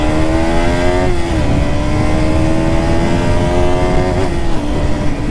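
A 2022 KTM RC 200 BS6 motorcycle engine pulls hard and loud up close, its pitch climbing steadily with two brief dips at gear changes as the bike accelerates to overtake.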